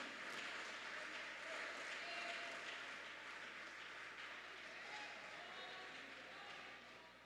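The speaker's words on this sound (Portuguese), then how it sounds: "E as palmas aplaudam o Senhor Jesus." A church congregation applauds during a Sunday service, a dense steady wash of clapping that holds at an even level for several seconds with a faint murmur of voices beneath.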